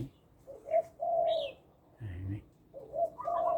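Birds feeding on ripe cherries in a garden tree give soft cooing and short chirping calls in several separate bursts, fairly faint and at a moderate distance, with no talk.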